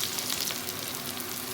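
Oil sizzles and hisses steadily in a pan while a beetroot curry is being started, a continuous close frying crackle with no talking.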